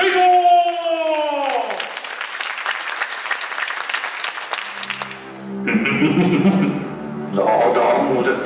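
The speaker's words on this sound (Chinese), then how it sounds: "让我们热烈的掌声欢迎第十八组" An audience at a cosplay contest claps loudly in a sustained burst as a group is welcomed, while an announcer's voice and music play over it before a dramatic performance voice takes over.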